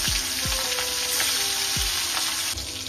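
Prawns coated in turmeric and salt frying in oil, a dense continuous sizzle with a few low knocks of a spatula against the pan, close and alone.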